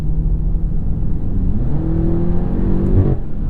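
A 2023 BMW M8 Competition coupe's 4.4-liter engine, with no piped-in sound, hums low inside the cabin and rises in pitch as it revs, then drops back, heard close with no voices.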